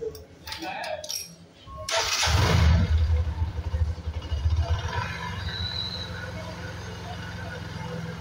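A Hero Platina motorcycle engine starts and settles into a steady, chugging idle nearby, preceded by some clattering handling noises.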